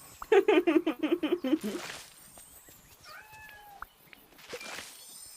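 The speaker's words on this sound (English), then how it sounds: "That wasn't me, that was the cat." A house cat meows in a quick run of about eight harmonic calls near the start, loud and close, followed by quieter background sounds and a person talking faintly.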